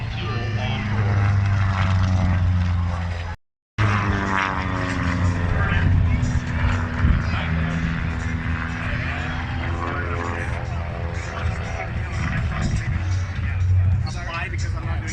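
A propeller aerobatic airplane roars through a display at the Abbotsford Airshow 2023, a loud sustained engine drone with shifting pitch, briefly cut out, while an announcer talks over it.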